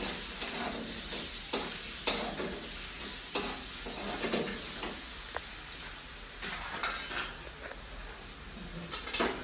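Cabbage and fried potatoes are stirred in a pan, with repeated clinks and scrapes of a utensil over a low, steady sizzle, close and without talk.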